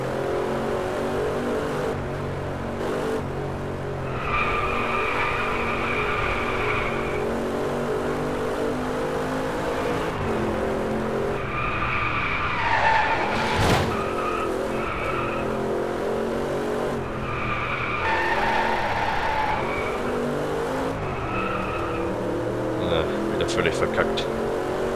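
Car drifting in the racing video game Driveclub, with a steady engine drone and repeated tire squeals in bursts through the run, all under someone talking.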